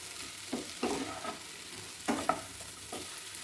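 Cauliflower curry being sautéed and stirred in a pan, with several soft scraping stirs of a spoon over a faint steady sizzle, no talking.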